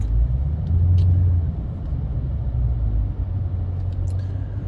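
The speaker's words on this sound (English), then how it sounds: "Going through a school zone," Car rolling through a school zone in stop-and-go traffic, heard from inside as a steady low engine and road rumble with a few faint clicks, no one speaking.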